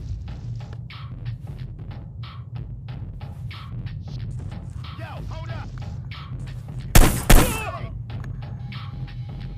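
Gunfire in the Hitman Reprisal mobile game: two sharp, loud shots close together stand out late, over a steady low game ambience with faint scattered clicks and effects.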